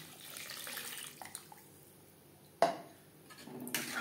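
Water poured into a pan of spiced peas for a winter fish curry, a short splash around the middle followed by faint trickling and a clink of utensils, quiet and close.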